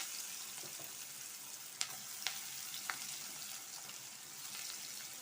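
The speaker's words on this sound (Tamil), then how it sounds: "பொடியாக நறுக்கி வச்சுருக்க வெங்காயம் சேர்த்து வதக்கிக்கலாம்" Steady sizzling of finely chopped onions frying in a hot pan for bitter gourd curry, with a few sharp crackles and pops standing out over the constant hiss.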